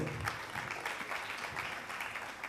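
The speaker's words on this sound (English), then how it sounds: "So a round of applause to all the people who came from across the board." Steady applause from an audience at a JITO Kenya community event, many hands clapping together in an even, continuous patter at a modest distance.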